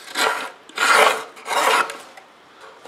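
Three rasping trimming strokes as excess three-ounce Kevlar is cut from a freshly molded fuel tank, each stroke about half a second long, close and fairly loud, with no talk.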